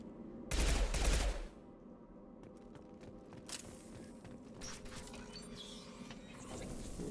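Burst of rapid shots from a shuriken pistol in a video game, one loud close volley followed by scattered faint clicks and mechanical taps against low background noise.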